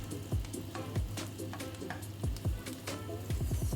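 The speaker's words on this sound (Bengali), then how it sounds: "তারপরে পেঁয়াজ কুচি দিয়ে ভাজতে থাকতে হবে যতক্ষণ না পেঁয়াজটি লাল হয়ে যায় এবং নরম হয়ে আসে" Chopped onions frying in a wok until soft and reddish, giving a steady background sizzle with repeated spatula scrapes and clinks against the metal, some falling in quick bursts.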